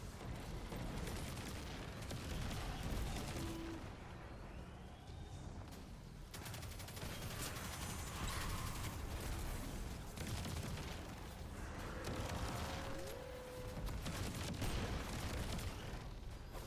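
Sustained enemy gunfire in Destiny 2 during the solo Expert Zero Hour Exotic mission, with dense crackling volleys and booms running throughout at moderate loudness and no talk.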